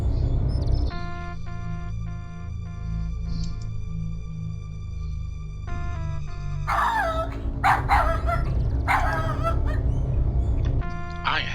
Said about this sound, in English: when you hear a dog barking